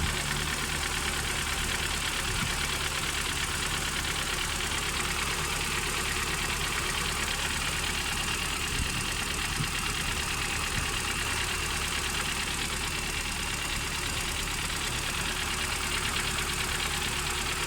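An idling car engine runs steadily throughout, with a rough, uneven knock from misfires caused by a high-tension spark plug wire leaking current, loud and close, no talking.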